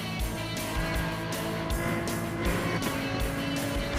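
A car at around 100 mph on the Laguna Seca race track with traction control off gives a loud, steady engine roar mixed with heavy wind and road noise, continuous throughout.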